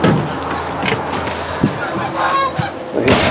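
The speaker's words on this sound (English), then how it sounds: "Ducks going by." Geese or ducks honking as they fly past a 2022 Starcraft Autumn Ridge 19BH travel trailer outdoors, several loud nasal honks at uneven intervals over a background rumble.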